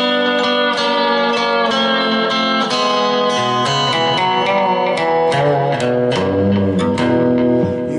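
A lap steel guitar plays a sustained, sliding blues phrase with bright ringing notes gliding between pitches, slightly distorted and loud, with no talking over it.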